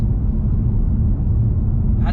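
BMW M2 Competition with active sound design, a steady low engine and exhaust drone from inside the cabin while cruising, constant and close, with a brief faint sound near the end.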